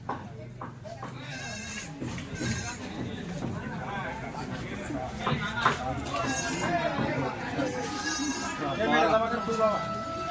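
Goats bleat repeatedly amid a busy livestock market crowd in Chalisgaon, their cries rising over steady chatter and people bargaining nearby.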